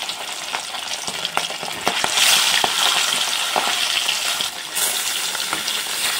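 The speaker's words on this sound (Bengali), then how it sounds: "এবার মাছের পিস একটা একটা করে তেলের মধ্যে ছাড়বো।" Fish pieces go one by one into hot mustard oil in a kadai, the steady crackling sizzle swelling sharply as pieces drop in, with sharp spatters and utensil clicks on top.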